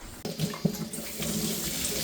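Running tap water splashing into a sink as something is rinsed underneath, a close, steady gush with small clatters in a home kitchen.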